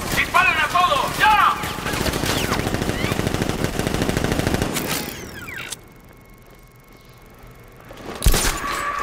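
Rapid automatic gunfire bursts from the video game Batman Arkham Knight, set in tunnels under Miagani Island, loud and dense for several seconds before dropping away to a quiet hum, then a sharp final blast.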